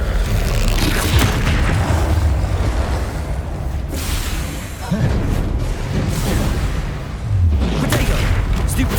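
Fiery Confringo spell blasts in the Hogwarts Legacy video game, a dense run of loud booming explosions and whooshes layered with busy combat effects, with a heavy thud near the middle and another toward the end.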